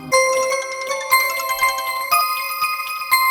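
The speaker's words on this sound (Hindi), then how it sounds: "मैम आपका फोन।" A mobile phone ringtone plays loudly and close, a bright electronic melody of repeating tonal notes with regular rhythmic phrases, alone with no voices.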